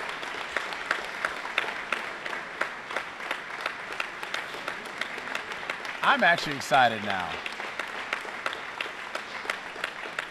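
A wrestling gym crowd at a freestyle bout applauds after a pin, a steady patter of many hands running throughout, while a commentator talks close by over it.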